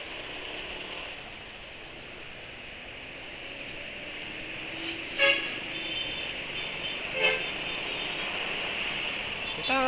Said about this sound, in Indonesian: Entah kenapa ya hari ini macet.